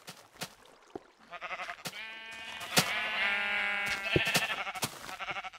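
Sheep in Minecraft bleat repeatedly, overlapping wavering baas joined by scattered clicks and thumps of gameplay, fairly loud and continuous across the stretch.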